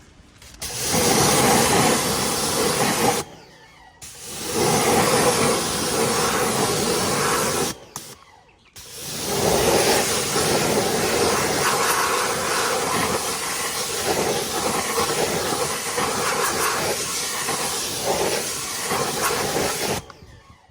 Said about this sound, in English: And then what I do is I get my pressure washer.